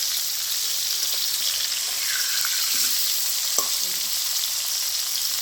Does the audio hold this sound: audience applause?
no